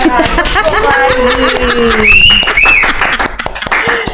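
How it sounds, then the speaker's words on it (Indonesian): An audience at a civet competition applauds and cheers, with scattered sharp claps, whoops and excited voices layered over a lively crowd for a few seconds. "Tepuk tangan lagi buat Kazi."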